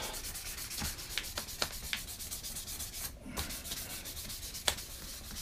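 A wooden spoon is smoothed with 400-grit sandpaper, a steady near scratchy rubbing in repeated back-and-forth strokes, quiet and alone with no talk.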